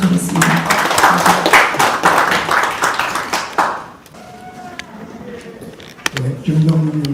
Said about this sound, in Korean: 여러분 큰 박수 부탁하겠습니다